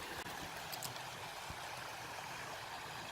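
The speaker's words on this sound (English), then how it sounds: "There's that stream I've been coming to." Clear stream running over stones below a waterfall in South Wales, a faint, steady hiss of rushing water with no distinct splashes, heard alone.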